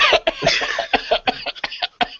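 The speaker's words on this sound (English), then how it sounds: "that's a cough" A person coughs in a rapid burst of harsh, close, loud hacks that repeat in an uneven rhythm.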